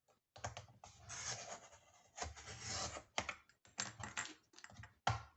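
Paper being cut on a WRMK Slimline Punch Board, heard as several close, rasping scrapes in uneven bursts separated by short pauses, with no talking.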